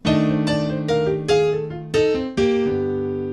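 Piano playing a bluesy riff: six strong, ringing chords struck in a pushing rhythm, each left to sustain and decay, close and clear.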